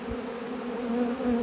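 A honey bee colony set up as a cell builder, full of nurse bees, hums in a steady close drone with a faint rising whine, no voices.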